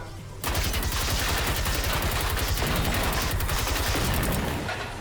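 Enemy gunfire in the video game Generation Zero: loud, sustained automatic fire crackles in dense rapid bursts for the whole stretch after a brief quiet start, with heavy booming shots underneath.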